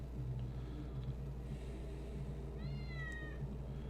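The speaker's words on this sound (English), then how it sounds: "Why am I hearing a cat meow right now?" In GTA V Online, a cat gives a single short meow partway through, faint against a low steady rumble of vehicle background noise.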